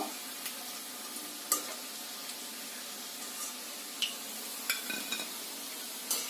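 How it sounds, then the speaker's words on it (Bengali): A slotted spoon lifts fried ripe-mango snacks out of hot oil in a kadai. Faint, continuous sizzling runs beneath scattered soft scrapes and light metallic taps from the spoon, all quiet and close. "একটা ঝাঁঝরির সাহায্যে তেলগুলোকে ঝরিয়ে এমন ভাবে তুলে নেব।"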